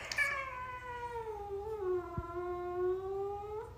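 A house cat lets out one long, drawn-out caterwauling meow, loud and close, with a sharp, angry edge that swells and falls over a few seconds with no talking.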